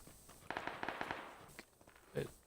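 Close gunfire in PUBG on Xbox: a rapid burst of sharp cracks at first, followed by a few scattered single reports and a louder thump near the end, with no talking.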